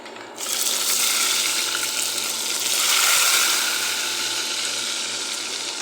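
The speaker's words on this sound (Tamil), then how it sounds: "இப்போ இஞ்சி பூண்டை போட்டுடலாம்" Loud, steady sizzle of ginger and garlic hitting a hot pan for chicken liver curry. It starts suddenly and crackles on close and continuous.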